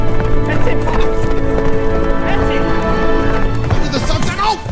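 Horse hooves clip-clop at a running pace, loud and steady, with a horse whinnying briefly and people talking over the hoofbeats throughout.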